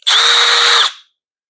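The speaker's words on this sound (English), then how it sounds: "You will need an electric drill with this drill bit" An electric drill with a special bit bores a hole in a garden tower, a single loud high whine lasting under a second before it cuts off and winds down, close and alone.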